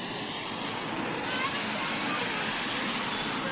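Someone wades into dirty, murky rainwater flooding Hatirjheel, making a continuous hissing slosh and churn of water that stays fairly quiet and steady throughout.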